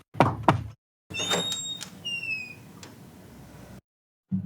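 Two sharp knocks on a door, then a stretch of eerie ambience with rising and falling whistle-like tones, ending on a short dull sound.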